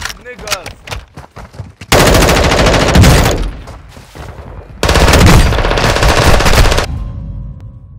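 Call of Duty gameplay with loud sustained automatic gunfire in two long bursts, preceded by scattered single shots, with a player's voice talking briefly near the start.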